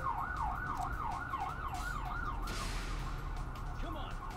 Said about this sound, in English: you gotta love cops and ambulances driving around the street